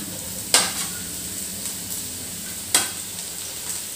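Vegetables and onions stir-fry in oil with a steady light sizzle, punctuated by two sharp clinks of a spatula against the pan.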